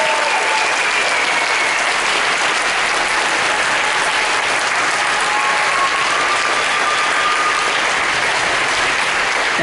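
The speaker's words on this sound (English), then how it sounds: "Can we give one more huge round of applause to all of our award recipients?" Loud, sustained applause from a large audience honouring award recipients at a NorCal concert band event, dense and continuous clapping filling the whole stretch without a break.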